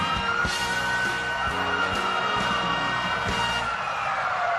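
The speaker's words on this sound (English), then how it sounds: "Sounds of sirens signaling it is the NYPD motorcycle unit escorting the parade as they faithfully do each and every year." Sirens of an NYPD motorcycle unit escorting a New York Thanksgiving parade sound steadily over a loud, dense street din, with wailing tones and background crowd noise throughout.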